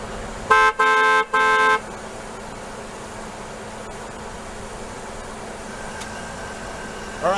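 A car horn honks three times in quick succession beneath an overpass, loud blasts set against a steady road hiss that carries on afterward.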